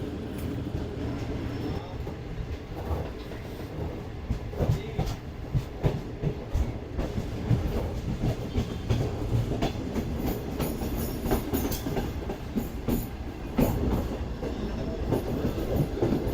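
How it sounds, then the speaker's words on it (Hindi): From inside a new AC Standard coach of the Pak Business Express running from Lahore toward Karachi, a steady rolling rumble carries rhythmic clickety-clack of wheels over rail joints, loud and continuous with no talking. "चलें जी, फाइनली ट्रेन रायवन से निकल चुकी है।"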